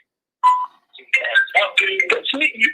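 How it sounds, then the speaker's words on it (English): A single short electronic beep signals the start of a phone call on a football call-in show, then a voice begins talking right after it. "The call will start at the beep."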